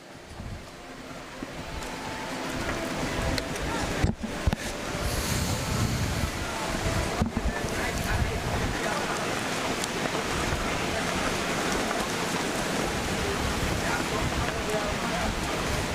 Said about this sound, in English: So it's definitely windy out there, guys.